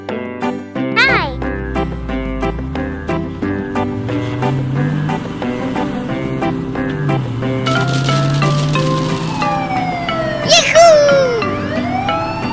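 A toy police car siren wails in rising and falling electronic sweeps, repeating over several seconds, with cheerful background tones and a voice chattering around it.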